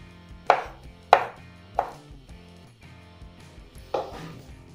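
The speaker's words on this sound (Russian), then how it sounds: "И нарезаю небольшими кубиками." A knife chops a small piece of homemade pork fat (salo) into little cubes on a board. About five sharp, close knocks come at an uneven pace over a quiet background, with no talking.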